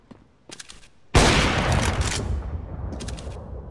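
Gunfire from a video game on the Overpass map: faint muffled shots, then a sudden loud burst that decays into a rumbling tail, with more distant shots near the end.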